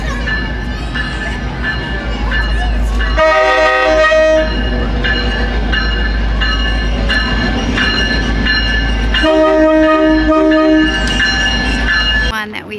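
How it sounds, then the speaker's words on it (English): The Polar Express train at the Grand Canyon rumbles loudly and close, with two long horn blasts rising over the heavy low drone of the passing cars. "That's the train we're going to be taking."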